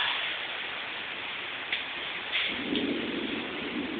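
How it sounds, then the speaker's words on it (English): Steady rain and wind during a severe storm in Brisbane, a constant broadband wash with a slight gusty swell near the end, heard alone. "So is that rain."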